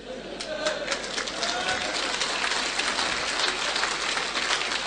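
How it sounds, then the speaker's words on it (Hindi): A hall audience claps steadily, a dense, even wash of many hands that keeps going without a break, loud and close throughout. "तालियां बजा रहे हैं"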